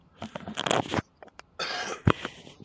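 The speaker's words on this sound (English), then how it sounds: "I've got to clear my throat a little bit." A man clears his throat several times close to the microphone, giving short rough coughing bursts separated by brief silences.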